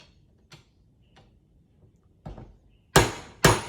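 A hammer taps on a grease-covered wheel bearing race during a Land Cruiser 105 wheel bearing service, with a few light ticks followed by two sharp, louder metallic strikes close by and no talking.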